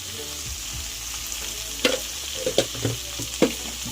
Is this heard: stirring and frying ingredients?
yes